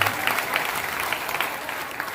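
Audience applause at a live comedy show, dense and steady clapping that fills the whole moment at close range.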